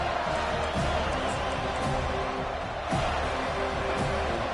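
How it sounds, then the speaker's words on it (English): A stadium crowd at an FSU vs Florida college football game roars in a steady, dense wash of cheering, with a play-by-play commentator talking over it throughout. "This crowd bringing an ear-splitting welcome to their visitors"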